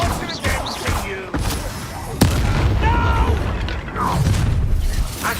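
Incendio fire spell cast again and again in Hogwarts Legacy combat, with sharp whooshing, booming bursts over a noisy battle din while character voices shout nearby.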